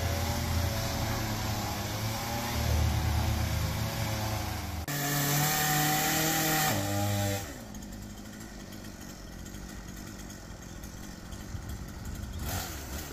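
A small chainsaw with a very short bar drones loudly at close range while felling a tree, revving and cutting steadily, then drops to a lower idle with occasional rises toward the end.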